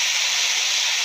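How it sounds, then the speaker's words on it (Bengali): Okra sizzling in hot oil with onion, nigella seeds and green chilli, a steady, loud, close frying hiss that holds evenly throughout with no talking. "এখন আমি ভেন্ডিটা বসিয়েছি, পেঁয়াজ দিয়ে কালো জিরে কাঁচা লঙ্কা ফোড়নে দিয়ে ভেন্ডিটা সুন্দর করে ভেজে নেবো।"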